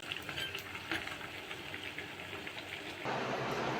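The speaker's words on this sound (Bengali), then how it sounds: "এভাবেই আমি সবগুলো আলুর চপ ভেজে নেব" Potato chops (aloo chop) fry in hot oil, giving a continuous close crackling sizzle that holds steady and grows slightly louder toward the end.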